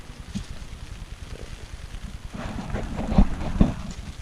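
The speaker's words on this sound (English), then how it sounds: "it's raining, guys." Rain falls steadily outdoors on a wet day, a continuous hissing wash of drops with a few louder patters and splashes near the end, with no voices.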